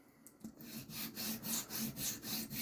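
A Puma Inox knife bevel is drawn across a modest 1000-grit diamond sharpening plate in steady, even back-and-forth rasping strokes, about six of them, close and fairly quiet.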